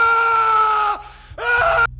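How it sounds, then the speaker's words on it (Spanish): A man lets out a loud, sustained scream of anguish with a strained, wavering tone. It breaks off briefly, then returns for a shorter second burst before cutting out. "Si tú eres uno de ellos, grita."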